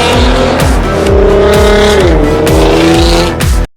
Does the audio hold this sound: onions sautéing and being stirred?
no